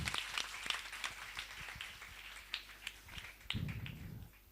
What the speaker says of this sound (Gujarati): કૃષ્ણાબેન માટે તાળીઓ પાડી દો બધા.